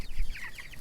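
Homestead chickens clucking close by, a short burst of soft, throaty clucks with some wind rumble underneath, no talk.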